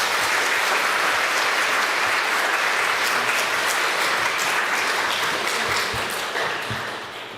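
A church congregation gives loud, sustained applause to welcome a missionary to the front, tapering off at the end.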